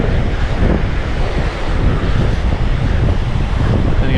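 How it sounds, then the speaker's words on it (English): Strong coastal wind buffets the microphone in a loud, continuous low roar with gusty rumbling and no speech, at a seaside spot in South Australia. "Although it's still a bit windy."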